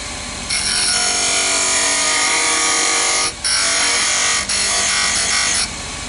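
A wooden chess rook being turned on a lathe gives a steady, loud whirring cut with tool scraping against the spinning wood, broken by two brief dips where the tool lifts away.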